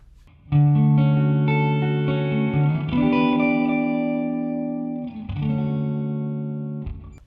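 An electric guitar played through a TC Electronic Hall of Fame reverb pedal with the settings maxed out rings with sustained chords that swell into a long, lush wash of reverb, with new strums around one, three and five seconds.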